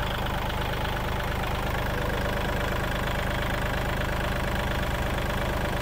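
A Kubota L3608 tractor's diesel engine idles steadily close up, with a loud, even low-pitched chugging and mechanical clatter running throughout.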